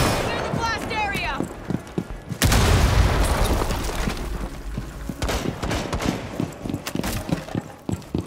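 Explosion blast in Rainbow Six Siege during a terrorist hunt, a sudden loud boom cutting in after scattered gunfire and shouted voices, followed by crackling debris and further shots under talk.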